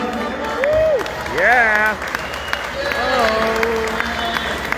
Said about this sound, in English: Give a nice round of applause and welcome to the bandstand here, front and center, Jimmy Motskevich Jr., everybody.